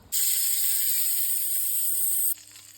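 A loud, steady hiss and sizzle of cut sausages hitting butter in a hot pan lasts about two seconds, then drops away to quiet.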